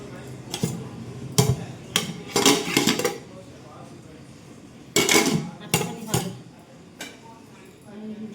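A pot of cooked rice lifted off the stove, with sharp metallic clanks and clatters arriving in uneven bursts against a soft background, then fading to quiet.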